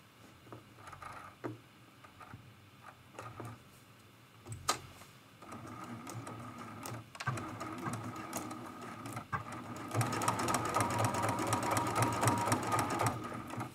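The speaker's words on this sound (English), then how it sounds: "I'm just going to stitch that so that all of the black lines are stitched." A sewing machine stitches quilt lines on an art quilt, starting quiet and intermittent, then running faster and louder toward the end; no talk.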